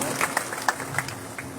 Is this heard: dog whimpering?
no